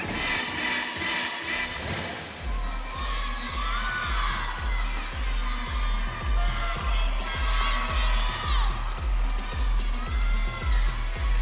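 Home crowd at an NCAA women's gymnastics meet between Bowling Green and Kent State cheering and shouting steadily for a gymnast, loud and continuous over a thumping rhythmic beat, with scattered whoops.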